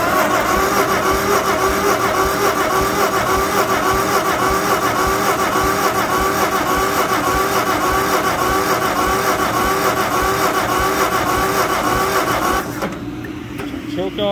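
An old John Deere 40 tractor engine, brought back after sitting for years, runs steadily and loudly close by with a rough, continuous drone, then cuts off near the end.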